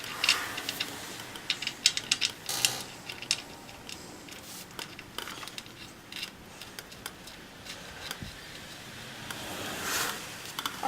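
A wrench clicks in short, quiet ratcheting runs while snugging the square oil drain plug on a lawn mower, with light scraping and handling noises between strokes.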